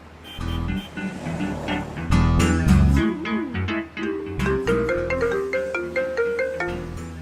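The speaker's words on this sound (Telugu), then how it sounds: "ఆ ఫోన్ పక్కన పెట్టవే బాబు. ఇప్పటికే 99 సార్లు చేశాడు" A mobile phone ringtone plays as a melodic electronic tune with rising and falling notes for several seconds, loud and close, with no talk over it.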